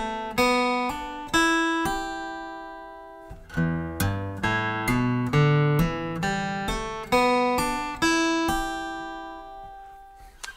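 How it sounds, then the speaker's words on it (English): Acoustic guitar hammer-on practice: a series of plucked notes, each followed by a second note sounded by hammering a finger onto the string, ringing clearly and evenly at close range with no talking. "this was the hammer-on part."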